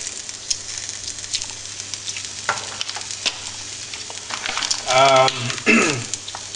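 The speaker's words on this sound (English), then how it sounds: "frying up some onions" Onions pan frying with a steady crackling sizzle, occasional sharp pops and stirring, and a brief burst of nearby speech near the end.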